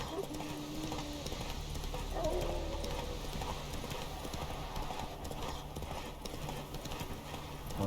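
Horse hooves clip-clop steadily at a riding pace in The Witcher 3: Wild Hunt, a continuous rhythmic trot with a brief whinny-like tone early on, set under low game ambience and faint background noise.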